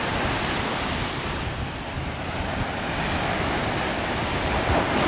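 Steady roar of surf breaking on Bang Saen beach at night, with wind buffeting the microphone, continuous and loud, no voices.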